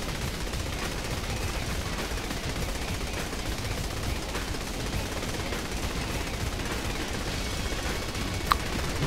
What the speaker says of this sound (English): Only about half those bullets were probably hitting that